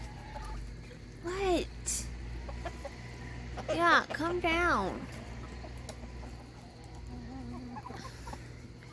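Chickens on a farm coop at sunset give rising and falling clucks in short bursts, grouped in clusters at moderate distance, while a person talks over them.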